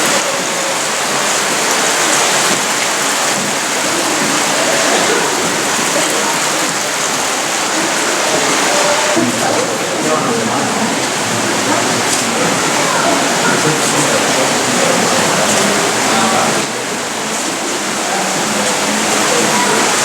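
Underground river flowing through Howe Caverns, a loud, steady rush of water filling the cave space without letup, continuous and even throughout with a slight shift midway.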